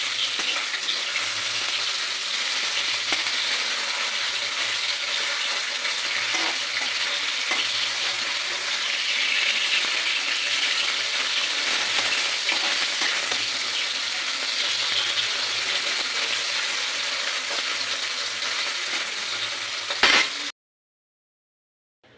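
Bata fish frying in a pan of oil: a dense, steady sizzle and crackle close up, running unbroken for about twenty seconds before cutting off abruptly.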